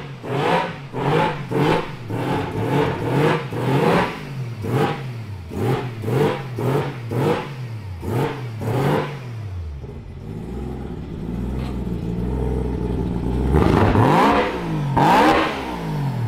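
A three-rotor rotary engine car being revved hard, a rapid series of sharp, raspy blips up close, followed by a rising, sustained high-rpm wail and a few more throttle stabs.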